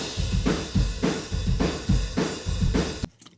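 Drums through a distant mono room mic, dirtier and further away: a short run of booming, reverberant kick and snare hits in a steady pulse, washy and diffuse, then stopping abruptly, no voices.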